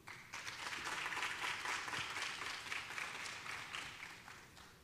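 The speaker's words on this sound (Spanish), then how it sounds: "démosles un fuerte aplauso al licenciado Peñaló" Sustained, moderately distant applause from a dental aesthetics congress audience welcoming a speaker, a dense even wash of clapping throughout.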